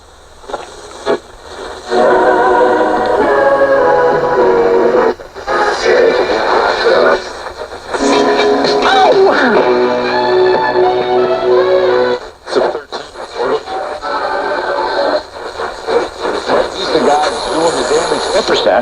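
A radio sweeps across the AM band, with bursts of hissing static, whistling tones and snatches of stations fading in and out, loud and close.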